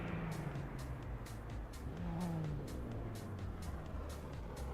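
A BMW drift car chases a Nissan Skyline in a drifting competition, engine droning steadily at a distance with repeated rev surges and a faint passing roar, fairly quiet throughout.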